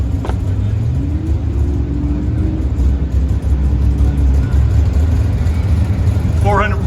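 A car with a 440 cubic inch LS7 engine at a desert autocross, a steady deep exhaust rumble in the distance beneath an announcer's voice over the loudspeakers.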